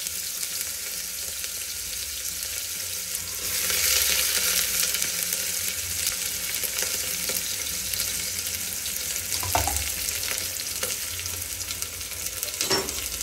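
Onions fry in hot oil in a pan for a chicken curry, a continuous close sizzle that swells as they go in, with occasional stirring knocks.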